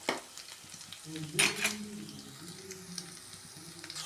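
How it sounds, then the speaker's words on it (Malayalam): Onions, green chilies and curry leaves sauté in a pan with ginger and garlic for a beef curry, giving a soft sizzle broken by a sharp clatter of stirring around the middle and faint scraping afterward. "ഇനി സവോള പച്ചമുളക് കറിവേപ്പില ഇത്രയും സാധനം അടുത്തായിട്ട് വഴറ്റി കൊടുക്കാം"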